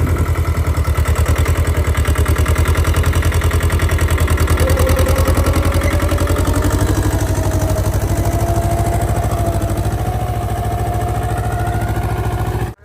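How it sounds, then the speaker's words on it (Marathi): A tractor engine runs steadily on a farmhouse field during sowing, a loud, close, continuous low-pitched putter with a rapid regular firing beat and a faint rising whine, running alone until it cuts off abruptly at the end. "ट्रॅक्टर चालवा लागलाय"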